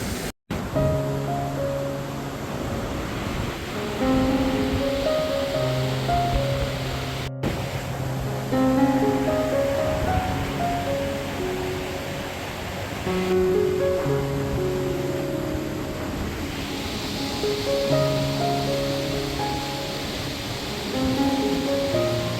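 A waterfall near Badrinath Dham in the Himalayas roars as a continuous broad rush, largely masked by melodic music playing loudly over it throughout.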